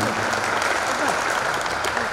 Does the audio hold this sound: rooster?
no